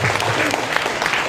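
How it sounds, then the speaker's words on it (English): Applause from a student audience at a college spring talent show, a dense steady clapping that fills the room for over a second at close, loud level. "So give it a round of applause for them."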